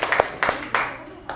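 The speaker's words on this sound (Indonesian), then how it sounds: "Tepuk tangan buat Dede." A few people clap in a classroom, four separate sharp bursts spaced irregularly over about a second and a half, close and moderately loud.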